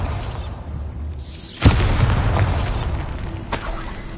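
A Bombarda spell explodes in Hogwarts Legacy with a sharp, heavy boom, followed by a rumbling tail and a smaller second burst shortly after. No one speaks.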